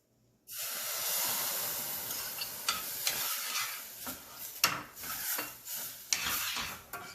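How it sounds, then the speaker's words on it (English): Boiled peas stirred into masala in a pan, with repeated scraping strokes and sharp clacks over a soft steady sizzle, close and fairly loud throughout. "Stir it for a few seconds"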